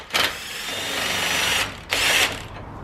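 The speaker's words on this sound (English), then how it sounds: "We've got a ratchet gun here." A ratchet gun spins out a 17mm bolt on the rear suspension of a Nissan 350z, two loud close bursts of whirring power-tool buzz separated by a brief pause.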